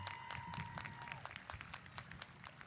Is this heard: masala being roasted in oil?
no